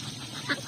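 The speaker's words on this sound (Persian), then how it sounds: "خانم اردکه" A single short duck quack sounds on a village farm, close by against a soft background hum.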